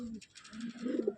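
Madras pigeons kept at a home loft coo close by in a short low burst that swells into a louder throaty coo near the end, while a voice speaks faintly underneath.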